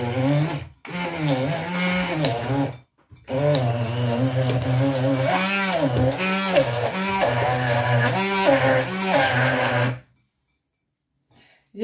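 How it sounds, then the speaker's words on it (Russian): A kitchen blender whips a flavoured butter mixture in long, loud whirring bursts with a rising and falling motor pitch, briefly stopping twice before cutting off near the end into quiet. "берем блендер и хорошо взбиваем нашу массу"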